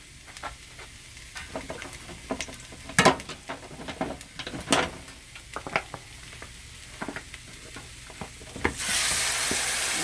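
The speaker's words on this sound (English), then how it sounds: "we're gonna go ahead and start rendering our meat" Meat renders in a hot pan for baked beans, crackling and sizzling with irregular pops and spatters and occasional stirring scrapes, close and alone, ending in a louder burst of hiss.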